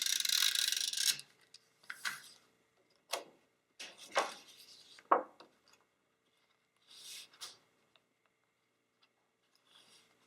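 Tombow Mono Permanent Adhesive tape runner pressed along card stock in a crafting session, a quick burst of dry scratchy rolling followed by a few short separate clicks and ticks, then quiet.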